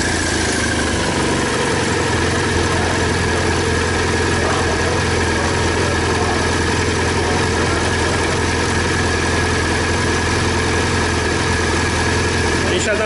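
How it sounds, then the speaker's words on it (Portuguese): A BMW GS 1200 Rallye motorcycle engine idles steadily and loudly up close, a continuous low rumble with a constant mechanical hum and no revving, held evenly for the whole stretch. "Vamos dar uma ligada na moto para ver como é que ele reage."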